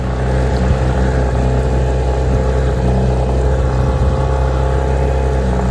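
A new two-stroke outboard motor on an inflatable dinghy runs continuously with a loud, buzzy, steady drone, held close throughout with no pauses.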